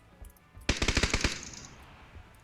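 A rapid burst of about seven loud gunshots in PUBG, a tight automatic volley with a ringing tail fading afterward.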